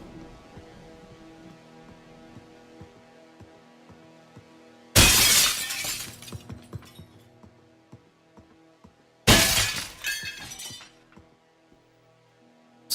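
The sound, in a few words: glass shattering in a Source engine video game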